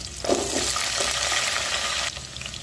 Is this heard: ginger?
yes